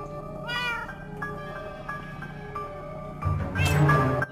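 Winslow the cat meows in Minecraft Story Mode, one meow early and a louder, drawn-out one near the end, over a steady backdrop of game music.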